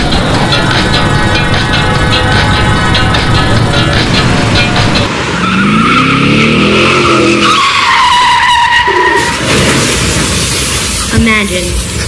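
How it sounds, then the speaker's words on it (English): A car skids with screeching tires and then crashes into a ditch, loud and close, the skid building over several seconds before a heavy impact, all set against a dense music-like background with voices mixed in. "You crash your car into a ditch."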